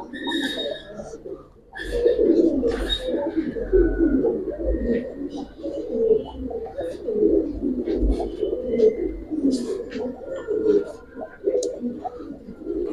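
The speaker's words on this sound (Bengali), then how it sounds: "ওই নটটা হচ্ছে সিলভার বেজি গলা কবুতর" Silver round-headed Giribaz pigeons coo steadily in a loft, a low continuous burbling chorus from several birds, with a few higher chirps and people talking in the background.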